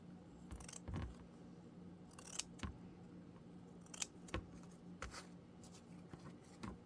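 Pinking shears trim paper for a Halloween junk journal tag, producing faint, close crisp snips that come one at a time and in short clusters at an uneven pace, with no talking.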